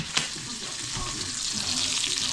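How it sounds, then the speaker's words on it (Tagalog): Onions fry in a pan for a Filipino-style stewed king fish, a steady close sizzle with a small clink near the start and no talking. "Konting sibuyas ang lagay sa video."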